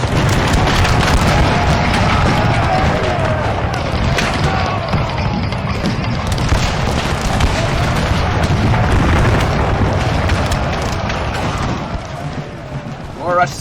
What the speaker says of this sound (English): You can hear the British returning fire.